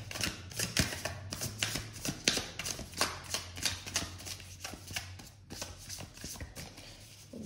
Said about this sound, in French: Bien mélanger, parce que là, on tire avec toutes les 78 cartes.